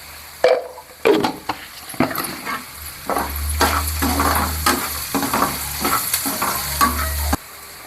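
Onions sizzle in a hot pan while a spoon stirs and scrapes repeatedly, close up and steady.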